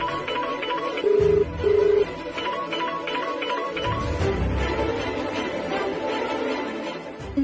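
A telephone being dialed in a Telugu TV drama scene, giving two steady beeping tones near the start over continuous background music, with no one speaking.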